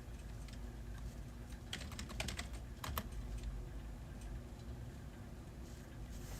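Quiet clicking of computer keys over a steady low hum, with a brief flurry of faster keystrokes in the middle and sparse taps around it, no voices.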